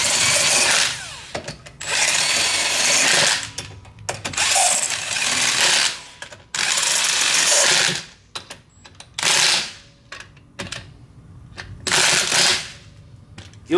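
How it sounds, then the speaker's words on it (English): An impact gun tightens lug nuts on a car wheel on an E36 drift car, firing loud, close bursts of rattling hammering separated by short pauses, repeated several times. "always start the lug nuts by hand and then slowly use the gun or whatever you're using to put them in."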